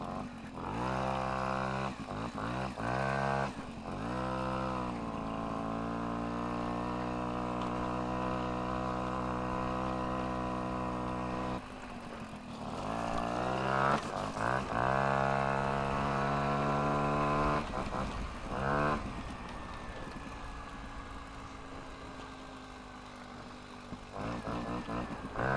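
An old moped's small engine runs steadily while being ridden with barely any throttle and no pedaling, its buzzing harmonic drone rising and falling with a few quick revs, loud and close throughout.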